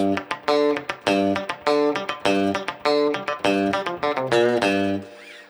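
Palm-muted country rhythm guitar chugs in a quick, steady eighth-note rhythm, tight and percussive, with a brief ringing strum at the end.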